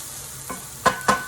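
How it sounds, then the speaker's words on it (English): Peppers and onions sautéing and charring in a hot pan for pepper steak, a low steady sizzle broken by two or three quick scraping stirs close up. "peppers and our onions have became aromatic, and now they get a nice little char on them"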